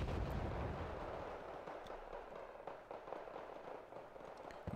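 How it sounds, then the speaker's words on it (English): Mortar fire in the video game Wargame Red Dragon: a quiet rumbling barrage with scattered distant thumps and crackles. "No, that's a mortar."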